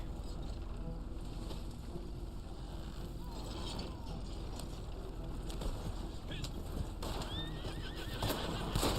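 In the video game Red Dead Online, a horse whinnies over a steady clopping of hooves, with a windy outdoor bed underneath and faint voices in the background.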